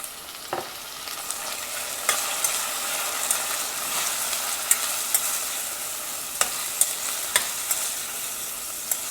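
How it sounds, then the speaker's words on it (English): Paneer cubes sauté with onions in a pan for palak paneer, a soft continuous sizzle punctuated by sharp spatula taps and scrapes at irregular intervals, close and without speech. "Next I'm going to add paneer and saute it like for a couple of seconds"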